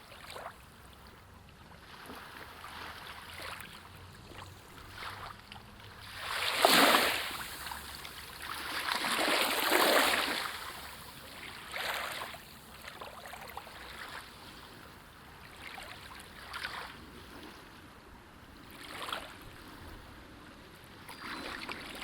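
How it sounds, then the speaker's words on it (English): Ocean waves wash onto a shore in slow, long surges, with several distinct swells rising and falling over a steady soft wash of water. "the waves keep arriving, one after another, in the oldest rhythm in the world"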